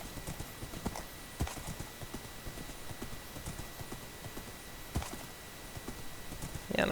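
Minecraft horse hooves clip-clopping in a steady run of light knocks, with a few louder hoofbeats and a brief whinny-like burst at the end.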